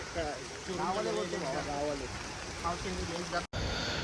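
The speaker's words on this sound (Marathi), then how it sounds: "खूपच पाऊस आहे मित्रांनो" Heavy rain pours down at Matheran station as a steady, dense hiss, with voices talking over it and a brief cut near the end.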